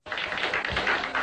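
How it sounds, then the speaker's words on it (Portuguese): Audience applause at an anime event in a club hall, a dense burst of many hands clapping that starts abruptly and holds steady, fairly loud and close. "Uma salva de palmas pro Anime Shui"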